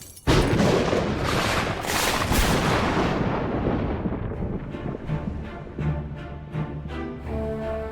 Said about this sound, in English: You can hear lightning.